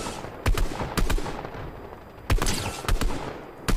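Gunfire exchanged in the video game Fortnite: several sharp, loud shots in short bursts, a pair early, then a spaced cluster, with decaying echoes between them and no speech.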